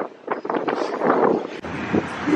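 Gusty wind buffets the microphone outdoors in Miami in close, rough rumbling bursts throughout, loud and continuous with no talking.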